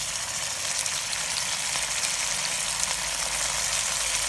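Green garlic fries with onions in a pan, giving a steady, loud, broadband sizzle with no pauses or talk.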